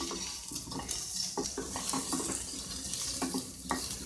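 Potatoes fry in ghee for dum aloo, a close sizzle broken by frequent spoon scrapes and clinks against the pan in an uneven rhythm. No one speaks.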